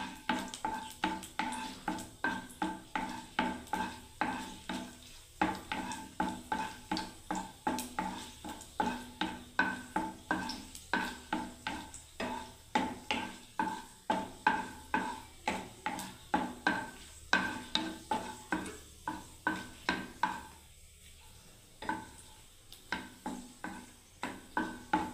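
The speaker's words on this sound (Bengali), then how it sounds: "বন্ধুরা দেখুন খুব সুন্দর করে লঙ্কাটা ভেজে নিলাম" Three dry red chillies frying in hot oil in a pan for garlic bharta, a soft continuous sizzle broken by a steady run of rhythmic stirring scrapes and clinks of utensil against pan.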